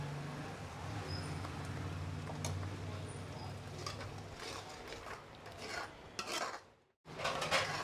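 Tomato puree with salt is roasted in a pan for Amritsari chole gravy, with soft scraping and stirring clatter from a utensil against the pan under a person talking.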